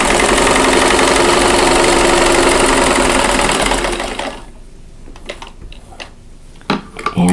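A sewing machine runs at a steady, loud, fast stitch along a quilt block seam guided by a 1/4 inch foot, then stops about halfway through, leaving quiet handling noises and a few small clicks.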